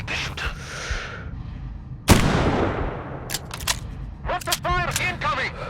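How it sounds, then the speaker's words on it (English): A single loud long-range rifle shot cracks out in Sniper Ghost Warrior 3, trailing a long rolling echo, amid a steady low rumble with shouting voices before and after. "Everybody down! Shots from long range!"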